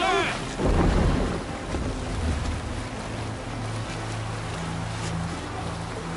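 A Viking longship sails at sea in Assassin's Creed Valhalla, with steady broadband wind and water rush and a low rumble throughout, and a brief shout near the start.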